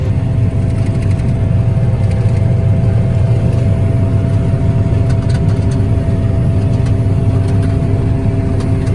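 A combine harvester's engine drones steadily inside the cab, a loud, constant low hum with a faint whine that never changes over the whole stretch.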